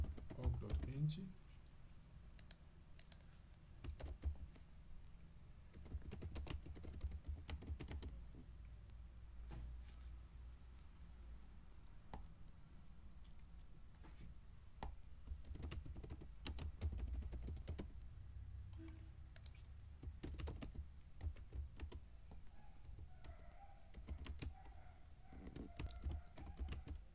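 Computer keyboard keys tapped while an email is composed, bursts of quick clicks coming and going at close range, with a person talking over parts of it.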